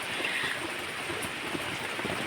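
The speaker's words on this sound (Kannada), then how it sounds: "ಈಗಲೂ ಬರ್ತಾ ಉಂಟು ಕಂಟಿನ್ಯೂಸ್ ಮಳೆ ಮಧ್ಯಾಹ್ನ ಮೇಲಿಂದ" Steady, continuous rain falls outdoors on an afternoon, a soft, even wash of hiss and patter with no break and no voices.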